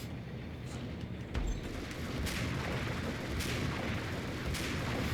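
Sniper rifle fire in the Max Payne video game: a few sharp, spaced shots crack out over a low steady background, fairly quiet overall.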